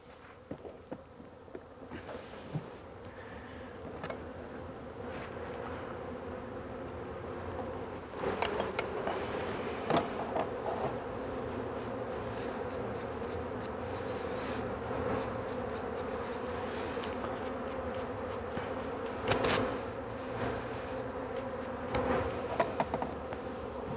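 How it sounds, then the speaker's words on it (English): Honey bees buzz steadily around the back of a hive on an organic farm in Bangladesh, a continuous close swarm drone with individual bees passing near and away, no voices. "the bees are working out the other side of the hive"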